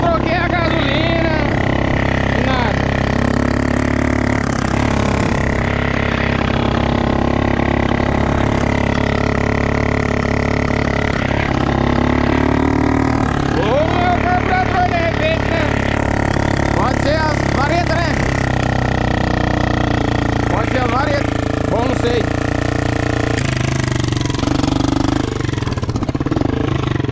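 A small engine with a suspected carburetor or low-oil problem runs steadily throughout, a constant mid-pitched drone with slight wavering, while people talk over it.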